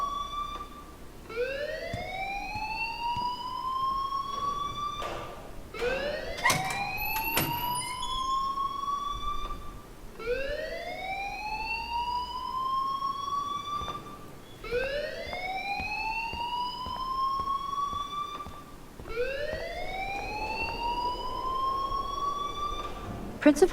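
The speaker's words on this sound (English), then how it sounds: "please turn off that alarm since that's your job" A school alarm in the game Life is Strange wails in repeated rising sweeps, about five long cycles, steady and prominent, each sweep separated by short gaps.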